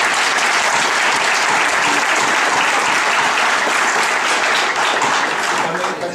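A crowd at a state house hearing on driver's licenses breaks into sustained, loud applause and cheering that fills the room without pause.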